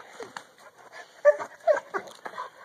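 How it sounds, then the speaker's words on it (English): A male coonhound gives a string of short, throaty barks and yelps in uneven bursts, fairly close but not overpowering, with quiet gaps between calls. "This loudmouth dog that you hear is Hank, the dad."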